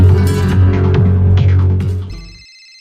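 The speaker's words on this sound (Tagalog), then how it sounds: "Imong cellphone, boss. Miring." A mobile phone rings loudly and close, a buzzing electronic ringtone with a throbbing pulse that stops abruptly, leaving a brief fading tone.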